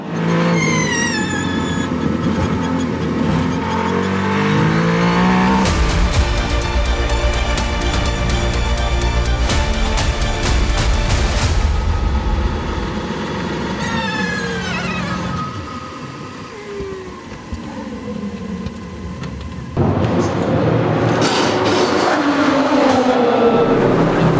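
Ferrari race car at the Le Mans 24 Hours, its engine revving loud and close with rising and falling gear sweeps, a dense roaring pass in the middle and another burst of engine noise near the end, no voices.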